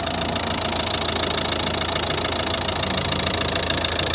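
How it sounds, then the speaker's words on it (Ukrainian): A 2011 Volvo V50 1.6 diesel engine idles steadily up close, a continuous rumble with a faint knocking rhythm and no voices. "Ось робота двигуна"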